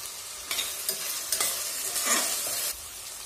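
Peanuts and coconut fried in oil for vegetable pulao, stirred with a few distinct scraping strokes over a continuous close sizzle, no one speaking.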